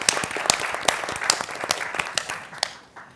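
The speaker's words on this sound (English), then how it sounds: "giving a round of applause to all our panelists would be appropriate too" A conference audience at the National Archives claps for the panelists, with a brief round of distinct, fairly sparse hand claps that fade out after about three seconds.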